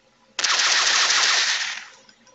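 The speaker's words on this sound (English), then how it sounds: "I know I'm going to shoot this sleeping zombie." Rapid automatic gunfire in the video game Portal Of Doom: Undead Rising, aimed at a sleeping zombie. One loud, sharp burst lasts about a second and a half and then trails off, with no talking over it.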